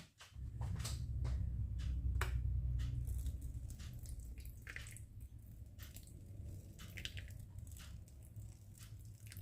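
Water poured onto potting soil in small cups prepared for pepper and eggplant seedlings, a soft continuous gurgle and wet squishing with scattered close drips and clicks, moderately quiet throughout.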